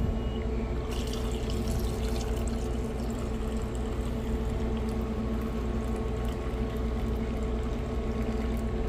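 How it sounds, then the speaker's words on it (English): Iced coffee poured into a cup for a pumpkin spice Dunkin-style drink, a steady liquid stream with faint splashing held at even level throughout, no one talking. "Now I'll put the coffee in a pumpkin one."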